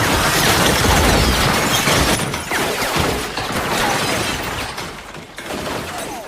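Film gunfire hitting a house during dinner: a dense, loud, continuous barrage of shots and crashing debris, with no gaps for the whole stretch.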